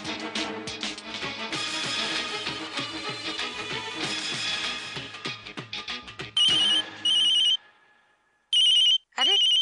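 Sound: mobile phone ringtone ringing

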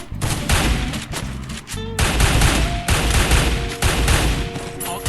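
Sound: gunfire in video game Free Fire

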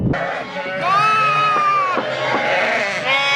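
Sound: sheep bleating

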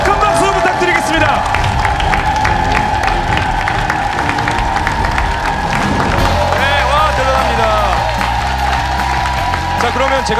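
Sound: audience applause

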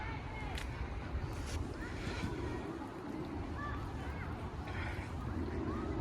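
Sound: river flowing

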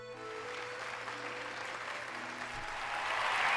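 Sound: crowd cheering in the video game Hollow Knight

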